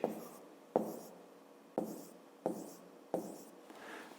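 Pen or chalk strokes writing numbers by hand during a fifth-grade math exercise, five or six separate scratchy bursts at a steady pace, each starting with a sharp tap and fading, close and fairly quiet.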